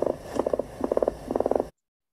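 A red-legged frog calls in several short bursts of rapid, pulsing croaks, each a quick train of low stuttering notes, fairly close and clear before cutting off abruptly.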